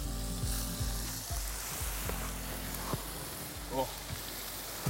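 Lobster mushrooms sizzle steadily in a hot skillet, a dense frying hiss with occasional pops and the scrape of stirring, while people murmur and exclaim nearby.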